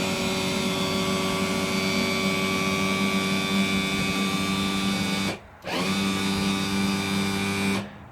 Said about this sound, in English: Motor goes up.